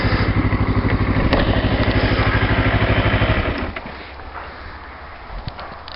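Motorcycle engine pulses loudly and steadily, then drops off sharply partway through as the clutch is pulled and throttle released, settling into a quieter low idle rumble with wind noise as the bike slows to a stop.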